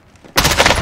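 A loud, abrupt blast of shotgun fire in Call of Duty Warzone, close and dense, cutting in suddenly after near-silence and holding to the end.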